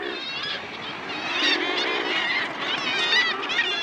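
A dense Arctic colony of murres, adults shuttling to the sea with cod for their chicks, raises a constant throaty, honking chorus of overlapping calls that carries steadily throughout, with no talk over it.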